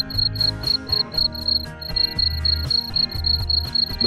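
Farmed crickets in a breeding enclosure chirp in a fast, steady pulsing trill, rhythmic bursts repeating continuously over a low background hum.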